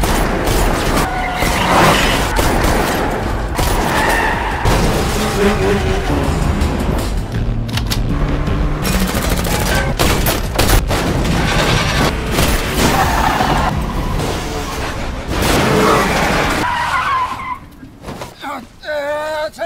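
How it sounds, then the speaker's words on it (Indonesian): A dense, loud car chase from the Korean action film Confidential Assignment, with tire skids, rapid gunfire and crashing impacts layered together, then easing off near the end. "Yang aksi kejar-kejaran sengit tembak-tembakan brutal pun terjadi lagi."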